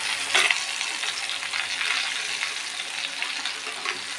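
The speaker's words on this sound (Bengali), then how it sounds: "তারপর মাংস রান্না করছি, এই যে মাংস ফুলকপি দিয়ে আলু দিয়ে।" Meat sizzling and frying in a pan together with cauliflower and potatoes, a steady close hiss with soft crackles throughout and no talking.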